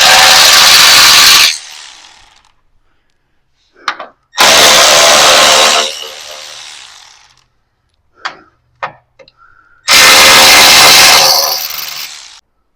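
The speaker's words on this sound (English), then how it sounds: "You take out the 4 bolts out of the grill." Cordless power tool driving out bolts from the grille of a Ram 1500 pickup, three loud whirring bursts of about a second and a half each, separated by quiet gaps with small clicks and handling knocks.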